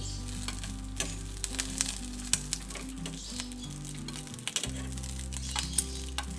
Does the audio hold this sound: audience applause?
no